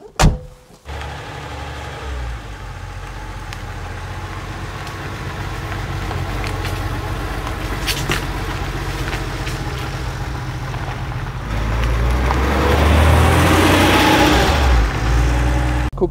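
A 1997 Porsche 993 S Vesuvio with air-cooled engine, in excellent condition, starts with a sharp thump, then settles into a steady low idle and mechanical hum before the engine swells louder as the car pulls away.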